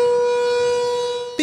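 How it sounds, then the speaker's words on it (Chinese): A civil defense warning siren wails as a long, steady, piercing tone during a volcanic eruption on Iceland's Reykjanes Peninsula, then cuts off abruptly into a short burst of noise at the very end. "刺耳的警报声响起，远方火光冲天，雷克雅内斯半岛的火山再度爆发。"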